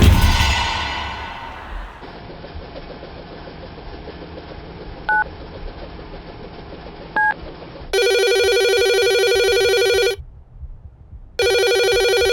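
Telephone dialing tones followed by a loud electronic ringtone ringing in two long bursts with a pause, in an eerie drama setting with a faint background hum.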